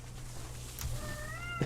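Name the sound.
cat meowing at a door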